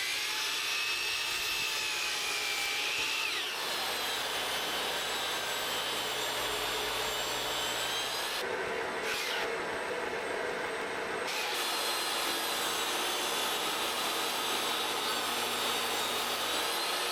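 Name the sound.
cutting wood boards for greenhouse build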